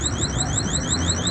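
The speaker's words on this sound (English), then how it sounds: "looks like somebody took something from our store and the alarm is going off" A store's electronic alarm sounds continuously, a loud, close, rapid series of repeating upward-sweeping tones with no voices.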